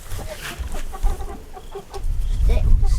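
A flock of about sixty escaped meat chickens clucks in short, overlapping bursts outdoors, busy and fairly close, with a low rumble of wind or handling noise beneath and some human voice mixed in.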